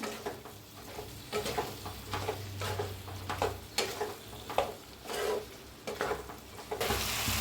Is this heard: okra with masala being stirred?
yes